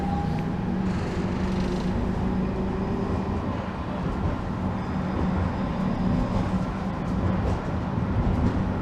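An Istanbul tram rumbles along nearby, a steady low mechanical drone with faint whining tones, no voices.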